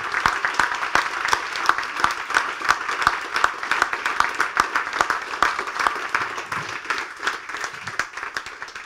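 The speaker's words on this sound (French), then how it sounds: "plein d'applaudissements" Audience clapping steadily and fairly loudly for several seconds after a round-table talk, a dense patter of hands with a few sharper claps standing out.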